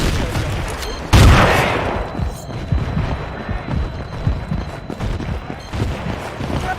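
A loud grenade explosion bursts out in Battlefield 2 combat, followed by steady scattered gunfire and rattling shots that keep going in the background.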